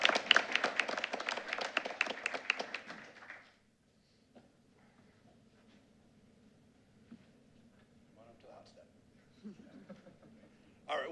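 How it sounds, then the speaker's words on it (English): Applause for a senior's family at a school board meeting: a burst of many hands clapping fills the room for about three seconds, then fades to quiet room sounds with faint talk and small knocks. "A round of applause for his family who is in attendance this evening as well"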